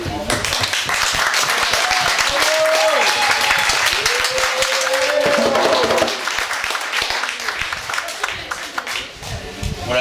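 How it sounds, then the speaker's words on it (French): A crowd applauds steadily and loudly for several seconds, the clapping thinning out toward the end. "donc j'ai envie de vous applaudir."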